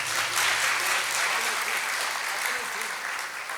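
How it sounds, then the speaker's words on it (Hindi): Sustained applause from a gathered audience at a foundation-stone ceremony for a saints' hall and footprint temple at Shikharji, a steady wash of many hands clapping for several seconds at moderate level. "तालियां बजाओ"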